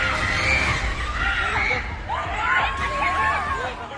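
Women and children scream and shout in panic as a boat packed with them overturns in floodwater after heavy rain in Hyderabad, overlapping cries rising and falling amid crowd noise.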